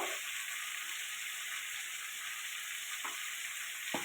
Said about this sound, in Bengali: এবার দিয়ে দেবো হলুদ, লঙ্কার গুঁড়ো,